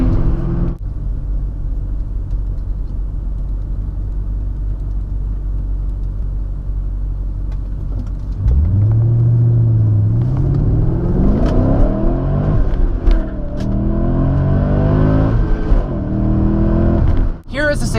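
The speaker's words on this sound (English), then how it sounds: "exceeding your red line and over revving the engine can cause serious harm to the motor" A manual-transmission car engine is revved hard past its red line, first a steady low idle-like drone, then a loud climbing rev with rising harmonics that holds and wavers before cutting off abruptly at the end.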